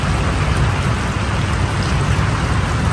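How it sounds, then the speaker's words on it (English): Heavy rain pours down steadily on a flooded campsite at Gamble Rogers State Park, Florida, a loud, continuous hiss with a deep rumbling undertone and no voices. "here's the rain outside"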